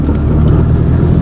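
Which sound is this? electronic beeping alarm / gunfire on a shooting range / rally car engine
rally car engine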